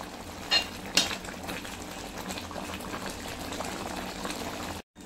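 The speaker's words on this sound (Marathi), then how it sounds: "आता हा पाक अगदी घट्ट होईपर्यंत आपल्याला हे ढवळत राहायचं आहे, पाक तयार होईपर्यंत" Thickening sugar syrup for raw mango moramba bubbles quietly in a pan, with a couple of sharp spoon clicks near the start as it is stirred.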